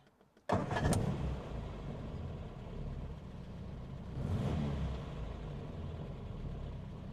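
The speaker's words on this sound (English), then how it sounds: "this particular engine sounds incredibly healthy" A Morris Minor 1000 engine cranks and catches after a brief pause, then settles into a steady, healthy idle with a slight swell partway through.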